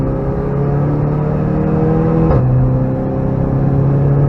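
Close onboard racing-car engine on the Nurburgring holding a steady loud drone, then a sharp pitch drop near the midpoint as another car passes alongside.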